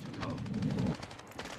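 Rapid automatic gunfire from the video game Warzone 2 DMZ during a PvP fight at Al Sa'id shopping center, heard as a fast burst of shots followed by a few more pops, mixed with chatter.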